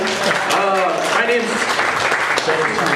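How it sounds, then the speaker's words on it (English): People at an outdoor political picnic in Arizona clap for one another, a steady wash of applause mixed with chatter and a few cheering voices. "give a round of applause for"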